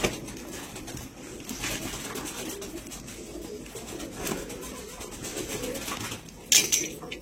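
Pigeons of a prized breed, just arrived by parcel from Guntur to Howrah, coo softly and steadily close by amid a busy, noisy background, with a sharp brief rustle near the end.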